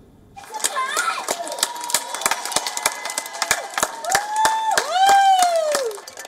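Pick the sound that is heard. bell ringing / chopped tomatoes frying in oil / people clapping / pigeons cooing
people clapping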